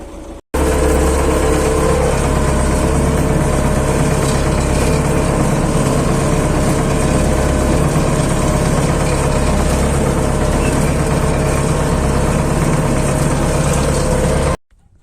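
A Belarus MTZ-80 tractor engine runs steadily throughout, a loud close low rumble with constant vibration while cultivating very hard, asphalt-like ground, cutting off abruptly near the end.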